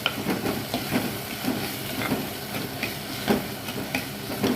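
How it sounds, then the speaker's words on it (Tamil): Tomatoes sauté in a pan with salt, turmeric and asafoetida, giving a steady soft sizzle broken by regular scraping stirs of the spoon, close by and without talk. "கொஞ்சம் மஞ்சத்தூள் கொஞ்சம் பெருங்காயத்தூள் நல்லா சேர்த்துட்டு நல்லா வதக்கி விட்டுருங்க"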